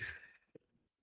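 A cat snoring: one soft, breathy exhale fades into quiet, heard close and alone.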